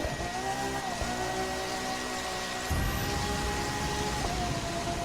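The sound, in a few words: car drifting on icy track in The Crew 2 video game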